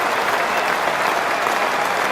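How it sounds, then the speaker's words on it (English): A cricket crowd at a one-day international between Marylebone Cricket Club and the Rest of the World cheers and applauds a batsman's fifty, a steady, dense roar of clapping that holds for a couple of seconds with no talk over it. "Greeted with a cheer."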